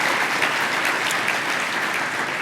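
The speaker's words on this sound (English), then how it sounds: "a round of applause for that hardworking staff" Conference audience at the Compact25 opening session applauding steadily, a dense, even wash of many hands clapping throughout, loud and close, with no break.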